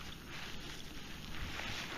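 Steady wind buffeting an outdoor microphone in an open field during a metal-detecting hunt, a continuous broadband roar with no talk.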